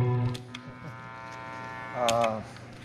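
A dirty, heavily distorted electric guitar tone from a Parker Maxxfusion-style guitar played through a Helix: a sustained, buzzy harmonic chord rings throughout, with a brighter, louder swell near the end and no talking.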